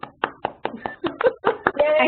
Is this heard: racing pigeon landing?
no